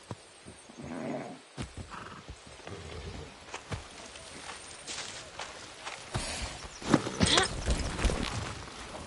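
A horse in the video game Far Cry 6 gives off scattered hoof thuds and clip-clop steps amid rustling ambience, fairly faint and irregular, with a few louder bursts of movement toward the end.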